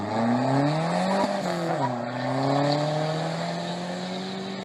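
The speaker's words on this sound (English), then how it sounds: "In stock, this thing came with turbocharged 4-cylinder, which pumped out 220 horsepower, but it came with no muffler," A Dodge Neon SRT4 with a turbocharged four-cylinder engine and no muffler drives nearby with a loud, raspy exhaust, its pitch climbing and dipping through gear changes in a sustained run.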